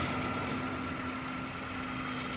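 A 2016 Hyundai i10 1.0 Blue Drive engine ticks over at idle, a smooth, steady hum with a faint regular tick, heard close and alone.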